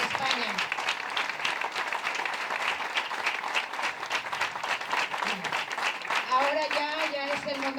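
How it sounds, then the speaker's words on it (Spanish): Audience applause at a Vox party youth event celebrating the Constitution in Salou, Tarragona: dense, sustained clapping fills the room, with a voice starting to speak near the end. "voy a pedir un aplauso muy especial para él"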